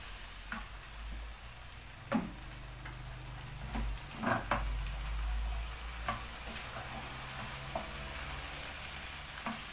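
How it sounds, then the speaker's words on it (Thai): Long beans with chicken being stir-fried in a wok over a strong gas flame, a steady sizzle with scattered scraping clicks of the spatula, close and continuous for about ten seconds. "เร่งไฟขึ้นมาผัดถั่วเลยจ้า"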